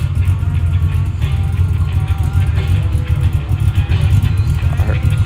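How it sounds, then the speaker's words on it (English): Drag race car with a Holley Blue fuel pump and carburetor at a grudge race at Xtreme Raceway Park, a loud steady low engine rumble held close for several seconds while people talk over it. "Oh no, I hear that Holly Blue."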